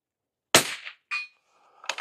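A rifle shot cracks sharply, then a bright metallic ring follows as the round strikes a steel gong target outdoors, the gong tone sustaining briefly before another sharp report at the end.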